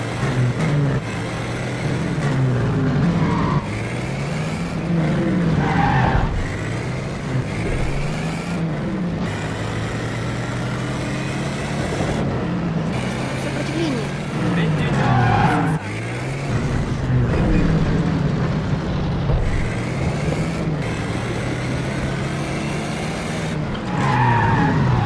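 A car revs and its tires skid and squeal repeatedly in The Saboteur, loud bursts of screeching over a running engine that recur across the clip with no talk.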